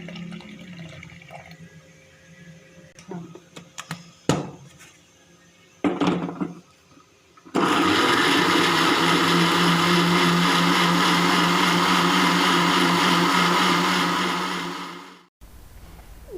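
A blender grinds a strawberry milkshake with milk, roaring loudly and steadily for about eight seconds before cutting off abruptly. Before it starts there are quiet handling noises and a few sharp clunks.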